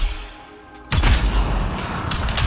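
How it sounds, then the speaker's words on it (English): A sudden explosion in the video game Mass Effect Andromeda, a sharp loud burst that opens into a broad rumbling roar sustained to the end. "Oh yeah, we got the explosion."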